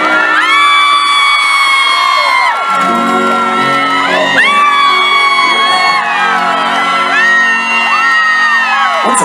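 A concert crowd whoops, yells and cheers loudly and continuously at an outdoor Qixi music evening in Daxi, Taoyuan, with high, rising shouts overlapping in a dense, close roar throughout.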